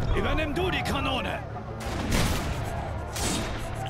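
Heavy gunfire and booming ship cannon blasts in the video game Risen 3: Titan Lords, loud and continuous, with voices talking over the combat.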